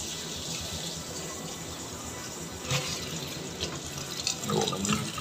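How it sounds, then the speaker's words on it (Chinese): Water runs steadily from a tap into a sink during a rental-home plumbing repair, a close continuous splashing rush with a few brief clinks near the end. "我们开水"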